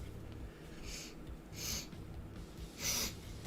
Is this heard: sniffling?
yes